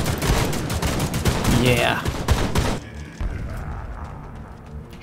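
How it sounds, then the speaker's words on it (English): Rapid close-range shotgun blasts in The Mean Greens, a toy-soldier war game, a dense flurry of loud shots for about three seconds, then quieter game ambience and a brief spoken word. "Shotguns in close range."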